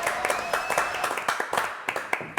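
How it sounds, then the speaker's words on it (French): Applause from a studio audience on a French variety show, a fairly light, quick round of clapping with distinct individual claps, moderately close. "Applaudissements pour Brigitte Lebrun"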